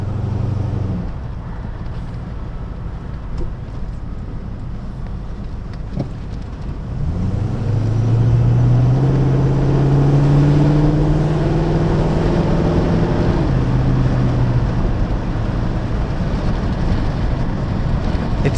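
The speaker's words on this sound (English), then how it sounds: "So you can ride the effortless wall of torque of that big, lusty V8 engine." A Rover SD1 with a V8 engine drives on the road, a steady low engine drone under wind noise that swells as it accelerates, with rising tones through the gears.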